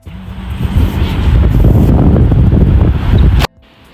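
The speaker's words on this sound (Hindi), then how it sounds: "बहुत ही प्यारा मौसम है और ठंडी ठंडी हवा चल रही है" Cool wind at the Flame Towers in Baku buffets the microphone in loud, rough low gusts that build over a second, hold strong, then drop away suddenly.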